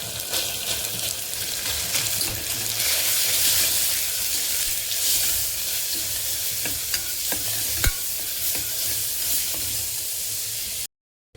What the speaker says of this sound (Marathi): हा मसाला असा छान परतून घेतला आहे तेल सुटेपर्यंत